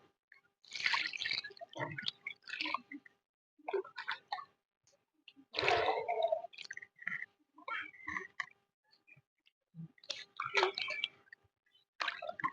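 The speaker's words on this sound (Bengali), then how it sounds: "আরো জল দেবো।" Water poured and splashing over flour dough being washed by hand in a bowl, with several bursts of dripping, squishing liquid spread across the stretch, separated by brief quiet gaps.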